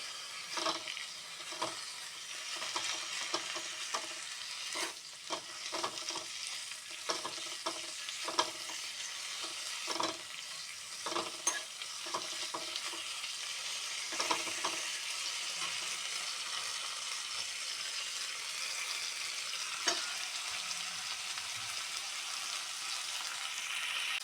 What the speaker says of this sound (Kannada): 5-6 ಕಾಳುಮೆಣಸನ್ನು ಹಾಕ್ತಾ ಇದ್ದೇನೆ. ಫುಲ್ಲು ಡ್ರೈ ಆಗಬೇಕು ಇದು.